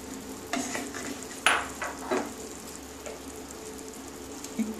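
Mustard and poppy seed paste, ground from white and black mustard, goes into a pan for a drumstick chorchori, giving a soft, quiet sizzle broken by a few light stirring scrapes and clicks.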